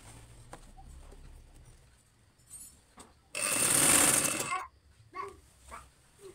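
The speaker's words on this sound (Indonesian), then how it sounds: "Kita jahit sampai bawah." A manual sewing machine stitches a Japanese zipper down to its lower end, giving a loud continuous burst of mechanical whirring in the middle with softer clicks around it and no talking.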